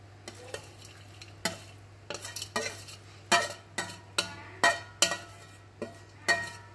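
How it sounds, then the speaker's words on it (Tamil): A spoon scrapes and taps through a pan as fried onions are mixed into basmati rice for vegetarian nasi lemak, giving a series of distinct, close stirring knocks over a faint low hum, no voices. "இப்போ நம்ம பொரித்து வச்சுருக்க இந்த வெங்காயத்தெல்லாம் அதில் போட்டு மிக்ஸ் பண்ணிக்கலாம்"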